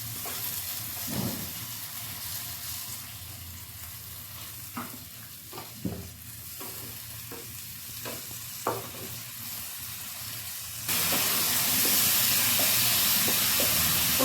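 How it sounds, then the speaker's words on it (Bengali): Tomatoes and spices cooking down with a little water in a pan over a lowered gas flame for a Bengali fish curry, a soft steady sizzle broken by scraping stirs, then a louder hiss near the end. "এখন সামান্য একটু জল দিয়ে খুব ভালো করে টমেটোটাকে একেবারে গলা গলা করে কষিয়ে নিতে হবে"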